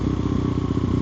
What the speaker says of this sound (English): those downshifts are nice and spicy.